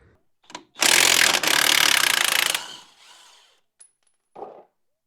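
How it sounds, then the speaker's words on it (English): A ratchet works loose the bolt holding the knuckle to the strut on a Ford Escape, giving two long, loud bursts of rapid clicking close by, then a few faint metallic taps and a short clack. "Now I'll remove the bolt holding the knuckle onto the strut"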